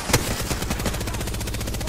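Rapid video game gunfire: one sharp loud shot followed by a steady, evenly spaced stream of automatic fire, close and unbroken to the end.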